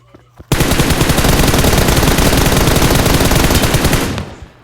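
Sustained machine gun fire in a video game rattles loud and continuous for about three and a half seconds, then cuts off abruptly.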